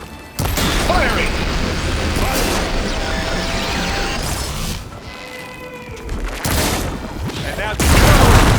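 Gunfire in a combat scene from the video game Horizon Forbidden West, dense bursts of shots and booms running continuously and loud, with mechanical whirs and game effects layered through.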